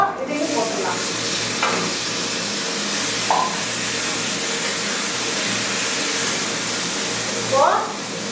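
Cooked sweet pumpkin tipped into a pan of sautéed onions for a kootu, giving a steady sizzle and frying hiss with occasional stirring scrapes.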